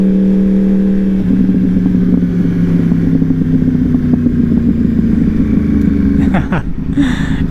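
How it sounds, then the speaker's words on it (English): A Yamaha R1 sport bike rolls along slowly at night, its engine giving a loud, steady, lumpy low drone that shifts pitch once early on, then eases off near the end. "Oh my gosh, this bike does not like to go this slow."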